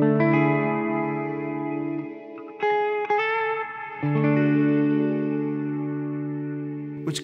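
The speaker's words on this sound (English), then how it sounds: "So you can still have the flanger on the reverb." Electric guitar chords run through a Meris Polymoon flanger into a Strymon Iridium reverb, swelling into sustained, shimmering synth-pad-like tones with long washy tails, changing chord several times, loud and alone without talk.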